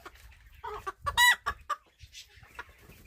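A rooster in a garden clucks and squawks in short bursts up close, with one louder, sharper call in the middle amid quiet morning surroundings.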